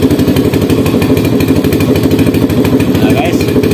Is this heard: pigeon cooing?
no